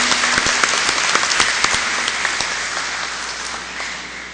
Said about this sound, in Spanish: Un aplauso para la doctora Nora